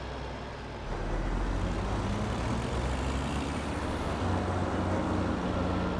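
In a farming video game, a tractor-driven stump grinder chews a tree stump into wood chips and blows them into a trailer, a dense, steady engine-like roar and grinding drone rising in strength after the first second and holding loud.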